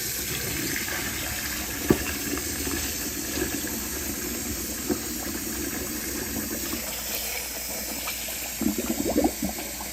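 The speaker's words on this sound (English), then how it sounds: "We're going to rinse them in some cold water, then add some" Cold tap water runs steadily into a sink to rinse boiled eggs for deviled eggs, a constant close hiss and splash with a few small clinks.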